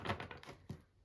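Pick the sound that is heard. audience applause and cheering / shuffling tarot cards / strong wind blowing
shuffling tarot cards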